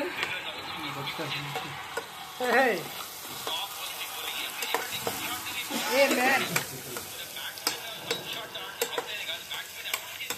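Chicken curry is stirred in a pan, with spoon scrapes and clinks over a steady sizzle of bubbling sauce; people talk throughout.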